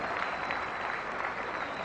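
Cricket crowd at a 2001 Sri Lanka versus India Test match applauding a shot, a steady wash of distant stadium clapping throughout, no break.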